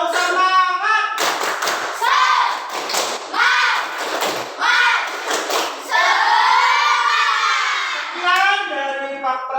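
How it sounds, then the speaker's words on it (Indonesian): A class of children shouting a rhythmic spirit chant with loud bursts of clapping in a classroom, voices and claps blending in a steady, energetic pattern. "Pak Guru ingin dengar tepuk semangatnya yang paling keras. Tepuk semangat!"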